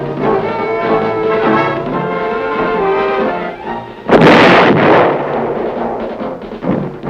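An artillery gun fires on a test range at Aberdeen, a loud, close boom that rolls out and fades. A humming tone runs beneath the first part.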